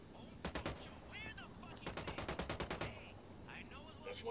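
Rapid bursts of automatic gunfire from a tactical shooter game, Ghost Recon Wildlands: a short volley, a pause, then a longer rattling string of shots, loud and close, with a voice speaking between bursts.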